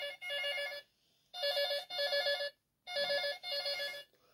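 A telephone rings in a hidden-object video game set in a school, a bright electronic warbling ring in three evenly spaced bursts, each made of quick trilled pulses, clear and alone.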